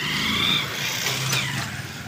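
Slow, congested town road traffic during a parade, with nearby car engines idling and passing in a steady, moderately loud rumble.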